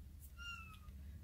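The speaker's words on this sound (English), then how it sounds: "If you hear Jade meowing" A single short cat meow, rising then falling, fairly faint against a low steady hum.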